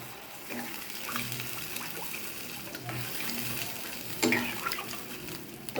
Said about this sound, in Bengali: এবার আমি এটাতে ঝোল দিয়ে দেব